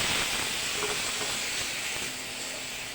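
Chayote sautéing with lemongrass in a pot for chicken tinola, a steady close sizzling hiss that runs unbroken and fades slightly toward the end.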